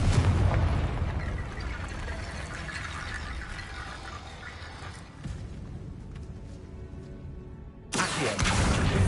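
A Confringo spell in Hogwarts Legacy bursts with a loud rumbling blast, fading into a long low roar before another loud burst hits near the end; no voices.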